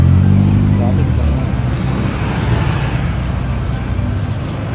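Road traffic rumbles and hums nearby as passing vehicles, with a heavier engine drone at the start that eases into a steady, continuous wash of noise.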